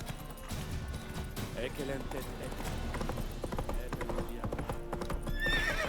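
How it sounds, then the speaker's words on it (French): Hooves clip-clop steadily while a horse whinnies, set against a busy soundscape from the video game The Witcher 3: Wild Hunt, with a voice talking in French over it. "Panique pas le toutou, le cheval."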